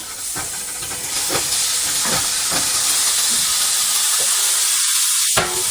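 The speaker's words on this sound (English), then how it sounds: "So now we're going to put the meat carefully in." Steak for tacos goes into a hot pan and sets off a loud, close, continuous sizzle. A few soft knocks of meat and utensil against the pan sound over the hiss.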